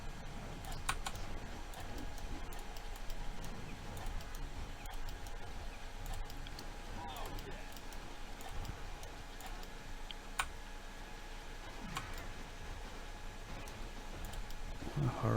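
A computer mouse clicks during a video game session: faint, scattered sharp clicks at irregular intervals over a low, steady background hum.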